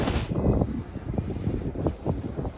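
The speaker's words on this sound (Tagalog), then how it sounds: "Simoy ng hangin." Wind blows near the big coastal windmills of Ilocos Norte, a close, gusty rush buffeting the microphone with low rumbling puffs, fairly loud and steady over the short stretch with no talking.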